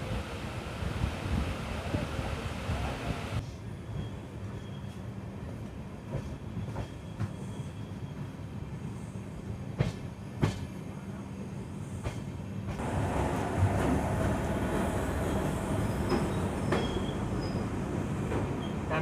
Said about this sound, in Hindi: ट्रेन पहुँच चुकी है पीलीभीत जंक्शन और हमारी ट्रेन को प्लेटफॉर्म नंबर 1 पर लगाया जा रहा है।